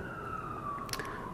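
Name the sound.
police sirens in city street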